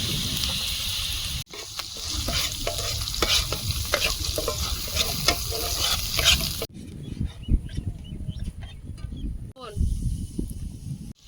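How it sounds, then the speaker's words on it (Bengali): Spice paste with tomato fries and sizzles in oil while being stirred and scraped repeatedly in a pan, the frying noise loud at first, then quieter after a cut. "টমেটো কোড়া মশলা ভালোভাবে কষিয়ে নেব মশলা থেকে তেল ছড়া পর্যন্ত"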